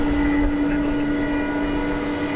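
An airplane taking off from the west side of DFW Airport at night, a steady, loud broadband engine roar with a constant tone running through it, sustained for the whole stretch with no talking.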